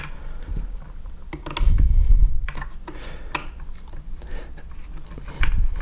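A screwdriver works screws out of the wooden back of an Arisaka Type 38 trainer rifle, giving close, sharp clicks, scrapes and creaks in irregular bursts, with a few heavier knocks and a dull thud.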